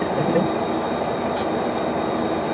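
A train rolls past at Ames, Iowa, a loud steady rumble of wheels on rails that continues throughout without pause.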